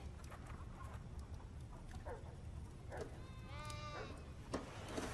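A faint goat bleat wavers through quiet outdoor background noise, with a few soft thumps and scattered distant sounds around it.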